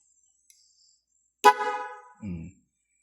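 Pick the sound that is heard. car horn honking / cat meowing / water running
car horn honking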